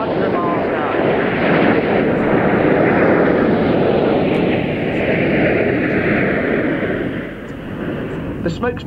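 RAF Red Arrows display jets roar past at about 2,500 feet and 400 mph, a loud sustained engine rush that swells and then fades away, with a commentator's voice over it.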